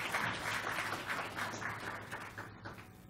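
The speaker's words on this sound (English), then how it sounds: "can we have a huge round of applause to welcome him on the" Crowd applause at a real estate awards ceremony as a presenter is welcomed onto the stage, a steady wash of many hands clapping throughout, fairly loud and dense without voices over it.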